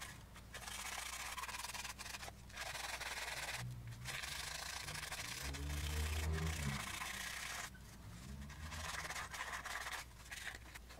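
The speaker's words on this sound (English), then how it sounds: "we're going to use some sanding paper and some brake cleaner to get the surface nice and clean" Repeated rubbing strokes of sandpaper scraping a metal gasket surface while changing a Chevrolet Cruze catalytic converter, steady back-and-forth passes with brief pauses, close by, with a low hum underneath.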